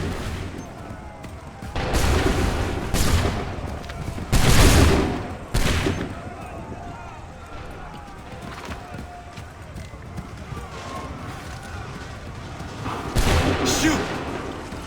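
Repeated musket volleys from a line of soldiers in the Assassin's Creed III video game, several loud broadband bursts cracking out in separate rounds over background battle noise, with officers shouting commands between them.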